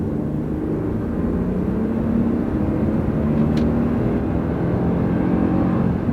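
A Toyota with a manual gearbox held in 3rd gear accelerates hard, its engine giving a loud, steady, close-up drone and rumble that holds without pause for the whole stretch, with no talking.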